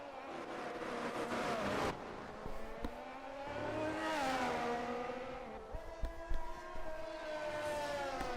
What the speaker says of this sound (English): That Honda engine's one of the more nice ones to listen to.